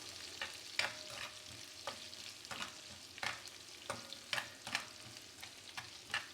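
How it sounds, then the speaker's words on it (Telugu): Chopped onion frying and being stirred in a pan while cooking egg fried rice: close, intermittent scraping stirs over a low steady sizzle, no talk. "ఆనియన్ ఒక 2 మినిట్స్ ఫ్రై అవనివ్వండి."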